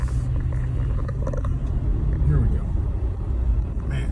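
Car driving around Anchorage, Alaska: a steady low engine and road rumble from inside the vehicle, continuous and close, with someone speaking briefly over it.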